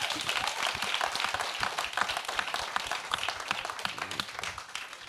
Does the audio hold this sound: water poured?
no